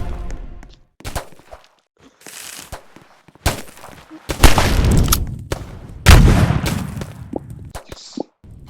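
Sharp pistol shots crack out in bursts in a video game arena, several loud separate bangs spread irregularly across the clip with quiet gaps between them.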